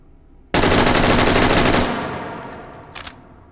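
A Steyr STG77 rifle emptying the rest of its magazine in one rapid burst of loud, close shots, then a fading echo and a brief metallic clatter near the end.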